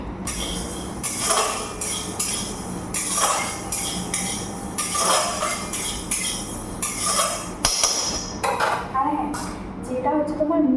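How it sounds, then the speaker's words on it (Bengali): Dry mustard seeds being crushed into powder in a home kitchen, giving repeated bursts of harsh scraping and clinking grind strokes in an irregular rhythm, close and fairly loud, with no talk. "এখন শুকনো কড়াই ভালো করে সর্ষেটাকে গুঁড়ো করে নেব"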